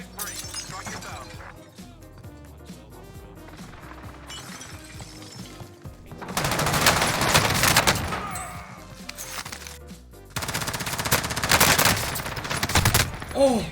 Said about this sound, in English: I want the airstrike here.